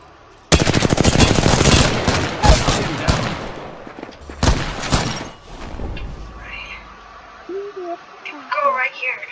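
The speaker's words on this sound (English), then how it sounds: "The enemies are shooting at me." Rapid bursts of automatic gunfire in the video game Apex Legends, a dense loud stretch of rattling shots followed by a few more scattered bursts, with voices talking underneath.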